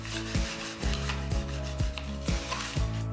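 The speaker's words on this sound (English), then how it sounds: "Scratch away all dirt and irregularities with a filling knife" Filling knife scraping dirt off a floor before herringbone vinyl parquet installation, about six rhythmic rasping strokes, close and quiet with no talk.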